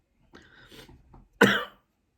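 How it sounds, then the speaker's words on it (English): A single short cough at a mukbang table after eating garlicky one-pot noodles, preceded by soft breathy throat sounds and faint mouth noise, close and fairly loud. "I just had a sneeze and a cough a bit."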